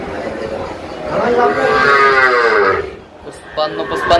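A Sahiwal bull calf at a cattle market gives one long, loud moo close by, rising and holding for under two seconds before fading into the market's background noise.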